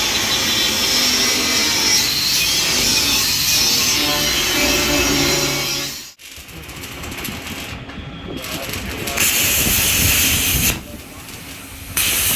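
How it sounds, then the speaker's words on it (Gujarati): Gas cutting torch piercing holes in a steel plate for a Maruti Suzuki Super Carry CNG full-body build, a steady loud roaring hiss that cuts out briefly midway and then resumes, with a few harsher bursts. "તો હવે ગેસ કટિંગથી આ પ્લેટમાં હોલ પાડીએ છીએ"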